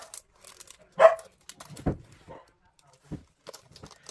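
A single sharp dog bark rings out, followed by a few softer yips and thuds amid quiet, sparse background noise.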